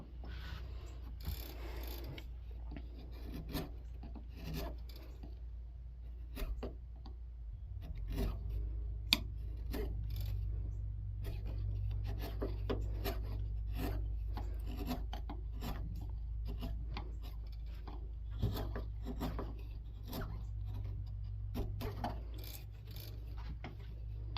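Wooden double barley twist candle stick holder being chiseled and cleaned out by hand, with repeated scraping, rasping strokes back and forth over a low steady hum, close and fairly quiet, no talk.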